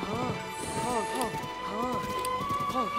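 A horse trotting in the video game Zelda: Tears of the Kingdom, with rhythmic clip-clopping hooves and snorting or whinnying calls over a steady background of game music tones.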